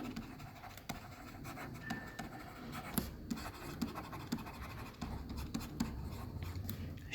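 A pen scratches across paper while notes are written by hand, close and quiet, with irregular strokes and short pauses alone.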